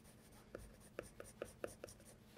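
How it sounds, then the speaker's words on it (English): A 4B pencil shades on paper with light pressure, giving a faint, close series of short scratchy strokes about every quarter second. "I'm using the 4B pencil still, but I'm going to press on it a little less hard"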